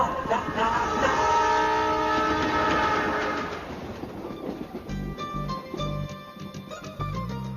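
A passenger train rolls past in a film scene, a loud sustained horn blaring over the rumbling carriages before giving way to rhythmic clattering wheels on the rails.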